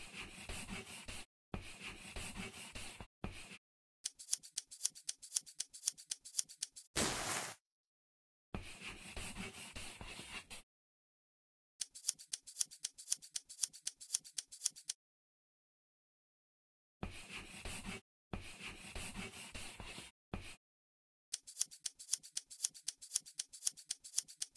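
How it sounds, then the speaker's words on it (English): In an Android sewing game, scissors cut fabric for a pair of shorts with quick, sharp snipping in repeated bursts and short gaps of silence. No voices are heard. "Let's cut."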